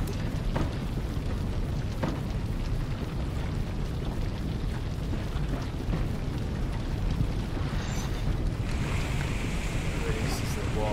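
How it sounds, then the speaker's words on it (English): Steady water waves in a video game, a constant dense wash of surf-like noise that holds at an even level throughout, with a brighter hiss entering near the end. "This is the water."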